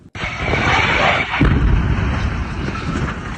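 A plane crash explosion in Philadelphia, filmed on a camera: after a brief quiet moment, a loud, sustained roar of rumbling blast noise fills the rest of the clip.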